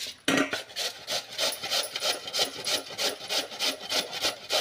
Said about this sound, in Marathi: या मोठ्या किसणीने आता हा बटाटा आपण किसून घेणार आहोत